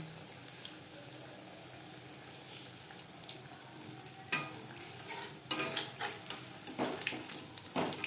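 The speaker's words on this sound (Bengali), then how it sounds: "পাকোড়াগুলো ভাজবো মিডিয়াম ফ্লেমে।" A soft, steady hiss of egg and flour pakoras frying in hot oil over medium flame, joined later by a few sharper scrapes and bubbling crackles close by.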